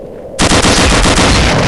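Rapid weapon fire in the video game Gunman Chronicles: a brief quiet moment, then a loud, sustained burst of shots that continues to the end.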